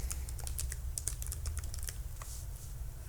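Rapid, irregular clicks of fingers typing code on a computer keyboard, close and steady for about three seconds with no talking.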